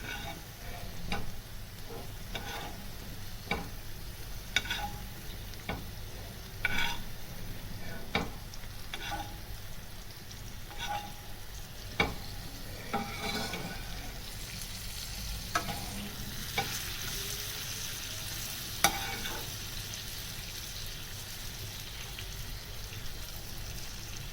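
Chicken tikka cooking in a pan in its own juices, giving a steady soft sizzle broken by scattered ticks and spoon scrapes, close and moderately quiet, with no talk.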